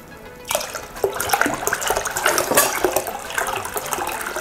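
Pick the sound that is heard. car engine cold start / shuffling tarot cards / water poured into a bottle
water poured into a bottle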